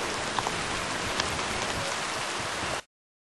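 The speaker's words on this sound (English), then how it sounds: "plenty of rain obviously" Steady rain falls on a vegetable garden in Fiji, a dense continuous hiss of drops hitting surfaces, close and fairly loud, with no voices, ending abruptly.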